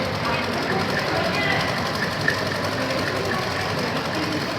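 A sewing machine runs continuously while stitching a straight seam on petticoat fabric, a close, even mechanical whir with rapid regular ticking and no break.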